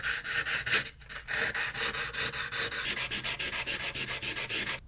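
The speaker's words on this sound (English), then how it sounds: "I'm going to try and sand out these scuffs." Sandpaper rubs back and forth over a Lafayette 8-track player to remove scuffs, a rapid rhythmic scratching with a brief pause near the start, close and fairly quiet.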